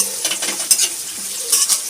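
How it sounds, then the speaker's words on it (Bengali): Meat, potato, onion and tomato fry together in a pan, a loud close sizzle with repeated scraping stirs and metal clinks from the spoon, with no talking. "মা এখানে বসিয়ে দিয়েছে মাংস আলু পেঁয়াজ আর টমেটো দিয়ে ভাজছে"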